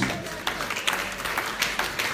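Continuous applause from a church congregation praising Jesus during a sermon, full and busy with many overlapping claps, fairly close and sustained throughout.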